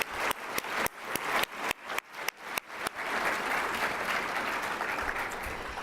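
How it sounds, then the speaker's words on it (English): An audience at a charity luncheon program breaks into applause. Sharp separate claps come first, then build into a dense, sustained round of clapping that fills the rest. "Let's give a big round of applause to this great group of supporters."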